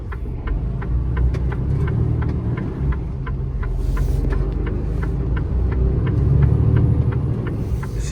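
A truck drives along a road in Saudi Arabia, giving a steady, loud low rumble and engine drone with a faint regular ticking running through it for the whole stretch.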